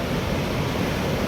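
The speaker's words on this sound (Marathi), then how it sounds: "पाण्याचा मोठा आवाज आहे" The flooded Terna river surges past a bridge in a loud, unbroken roar of rushing water that fills the whole stretch with dense, steady noise and no voices.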